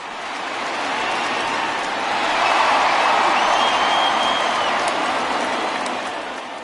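Simulated crowd cheering at a Padres opening day baseball video game, a soft steady swell of distant cheering that rises in the middle and fades toward the end.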